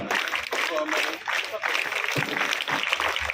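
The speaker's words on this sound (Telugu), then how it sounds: "మంచి క్లాప్స్ కొట్టండి" Children clapping in rhythm at a school enrollment event, a dense burst of claps running throughout with voices mixed in.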